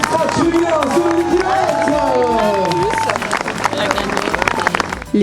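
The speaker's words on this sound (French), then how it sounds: "Applaudissements s'il vous plaît pour ce podium spectaculaire" Crowd at the awards podium of a running race held at Touroparc zoo claps and cheers continuously while a voice speaks over the top in a lively outdoor setting.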